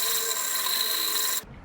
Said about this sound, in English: you can actually curve the piece of sandpaper the way you want